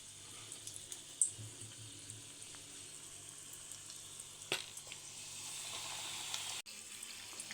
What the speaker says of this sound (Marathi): आणखी एक वडा तेलामध्ये सोडून घेऊयात